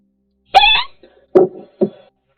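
A single loud, sharp sneeze bursts out close by, followed by two shorter vocal sounds with quiet gaps between them.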